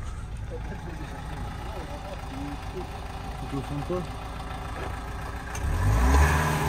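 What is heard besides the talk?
Renault Megane 2 convertible engine idling and revving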